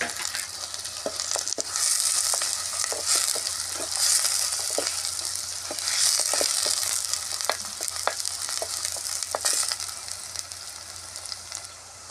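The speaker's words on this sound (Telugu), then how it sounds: "పచ్చిమిరపకాయలు వేసాను. కర్రపాలు పచ్చిమిరపకాయలు వేస్తానులేండి. కొంచెం కరివేపాకు వేస్తున్నాను." Green chillies and curry leaves frying in hot oil for a chicken liver fry, a steady close sizzle with scattered sharp pops and crackles throughout, no voices.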